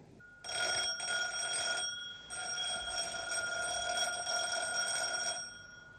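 A 1970s telephone bell rings indoors in two bursts, a bright, metallic trill that pauses briefly and then rings again, heard alone.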